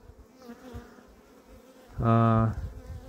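Honeybees at an opened beehive during spring colony buildup, a soft low hum rising into one loud, close buzzing burst lasting about half a second before fading back.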